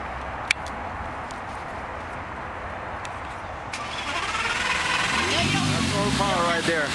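A Lamborghini V10 engine of about 510 horsepower starts up at a shopping mall display, cranking and catching after steady background hubbub, then settling into a loud, rough idle close by.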